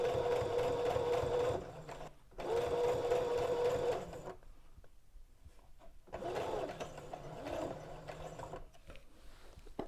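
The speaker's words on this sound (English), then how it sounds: "Then I'm going to carefully sew to the point" A sewing machine stitches a flounce onto a skirt, running in close, steady whirring bursts with short pauses between, and quieter handling noises in the gaps.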